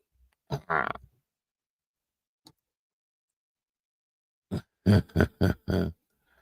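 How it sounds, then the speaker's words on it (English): A few soft, abrupt hiccup-like sounds from a small animal, one early, then a quick cluster of four or five near the end, with silence between. "She got the hiccups too. See that?"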